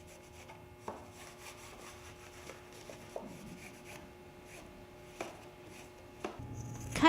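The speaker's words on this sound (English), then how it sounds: "Be sure and clean all the inside surfaces and doublers with acetone." Inside surfaces and doublers of Clecoed aircraft winglets are wiped down with acetone, giving soft, close rubbing and scraping strokes broken by a few small knocks, quiet overall with a louder clatter at the end.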